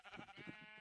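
Several sheep bleat in Minecraft, a quick, faint cluster of short wavering cries heard on their own.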